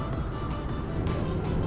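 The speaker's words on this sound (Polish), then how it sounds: "niech się jeszcze ten silnik zagrzeje" A Zontes 125C motorcycle engine idles while warming up, giving a steady low, even putter close by with no talking.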